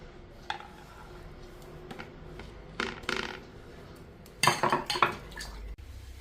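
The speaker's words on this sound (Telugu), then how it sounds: "స్టవ్ ఇచ్చేసేసుకుని ఒక స్టీల్ గిన్నెలో వాటర్ అయితే వేసేసుకున్నాను." A steel vessel of water is handled on a kitchen stove, with scattered metallic clinks, taps and scrapes, a few louder clatters near the end, close and without talk.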